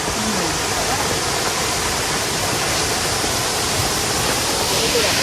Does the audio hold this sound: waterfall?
yes